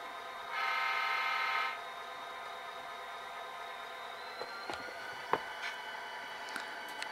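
A Kato SD40-2 model diesel locomotive in Union Pacific livery with a Tsunami sound decoder gives one short, faint horn blast over a steady low engine hum, followed by a few light clicks.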